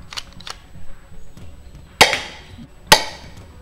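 Shots from a 1911-style gel blaster pistol, with two loud sharp cracks standing out above a couple of softer clicks and mechanical handling noise, close to the microphone.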